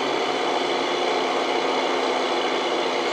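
A truck engine runs in American Truck Simulator, a steady, unbroken droning hum with a broad noisy rush, holding the same loudness throughout.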